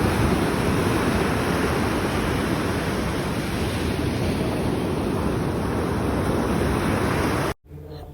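Sea waves roar steadily on Laboni beach at Cox's Bazar, a loud, unbroken wash of surf with wind noise that cuts out abruptly for a moment near the end.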